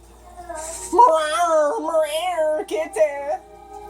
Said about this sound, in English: sorry about my cat, you guys